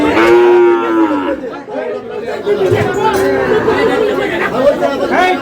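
Sahiwal bulls at a cattle market in Sherpur: several loud, sustained moos, one long call opening and others following, close by over busy market chatter with people talking throughout.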